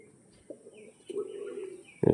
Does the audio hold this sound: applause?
no